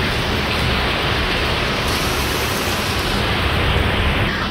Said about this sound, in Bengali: বৃষ্টির আওয়াজ হচ্ছে, শুনতে পাচ্ছ ব্যাকগ্রাউন্ডে